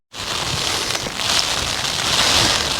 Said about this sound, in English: the rain started to come on. It's not heavy like